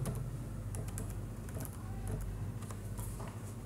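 Keys clatter steadily on a computer keyboard as details are typed into an online registration form, a quick continuous patter of clicks over a low room hum, with no voices.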